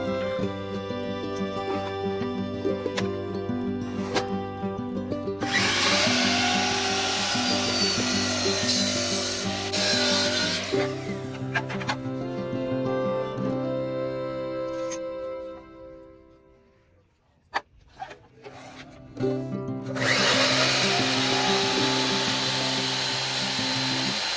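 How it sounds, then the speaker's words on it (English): Power saw cutting a 45-degree angle on baseboard during a DIY install: several loud, close whining bursts of the motor and blade, separated by brief pauses and spin-downs, with no talking. "I'm going to cut 45-degree angle on this"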